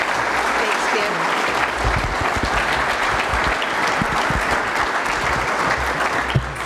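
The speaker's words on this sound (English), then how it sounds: "asking all of you to say thank you for your service with a big round of applause to the Honorable Ellen Lord." Steady, dense applause from a large audience at the 2019 U.S. Naval Institute Annual Meeting, sustained evenly throughout without pause.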